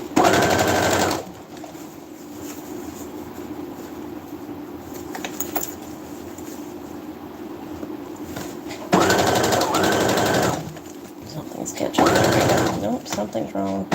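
A sewing machine stitches a cheap Temu purse at a 3.5 stitch length, loud steady whirring bursts at the start, middle and end with quieter stretches between and brief talk.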